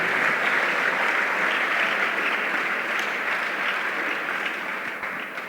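A church congregation applauding steadily and loudly, a dense continuous clapping that holds for several seconds before easing slightly at the end.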